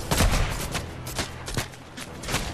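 Rapid bursts of video game gunfire, dense overlapping shots and booms in a shooter match, loud and continuous with no talking.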